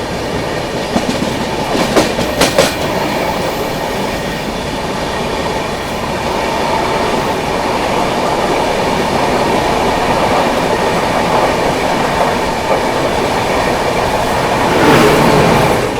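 A Gatiman Express hauled by a WAP-5 electric locomotive runs at high speed between Delhi and Jhansi, making a loud, continuous rail roar with steady clickety-clack and faint wheel squeal, close by, with no voices.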